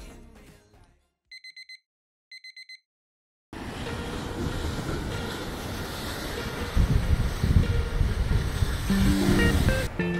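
Ocean waves wash steadily along a seaside walk, a loud, broad surf roar with wind buffeting the microphone. A short electronic alarm beeps in near silence beforehand.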